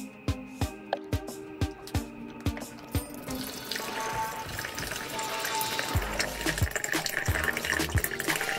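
Water poured into a container to make a copper electrolyte, starting with a series of sharp knocks and clunks, then turning into a steady rushing pour, close and fairly loud, with a few more knocks near the end.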